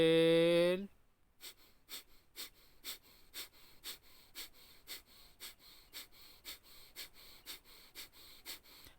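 Forceful kapalbhati pranayama exhalations, a rhythmic series of about fifteen sharp nasal breath bursts spaced roughly half a second apart, close and fairly quiet, following a brief burst of voiced sound at the start.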